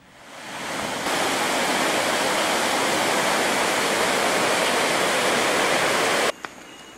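A river flows through natural forest near a suspension bridge, giving a loud, steady rushing roar that swells in over the first second, holds constant, then cuts off abruptly with a brief knock.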